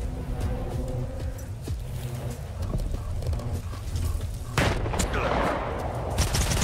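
A thrown grenade goes off in the video game S.T.A.L.K.E.R. 2: Heart of Chornobyl, a loud, sudden blast late in the clip that follows a stretch of steady background gunfire and rumbling.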